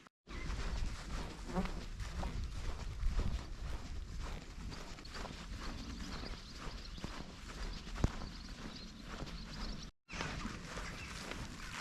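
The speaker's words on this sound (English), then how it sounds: "Now we've got horses." Horses nearby, hooves clopping steadily on the ground with some shuffling and animal movement, continuous outdoors with a faint breeze.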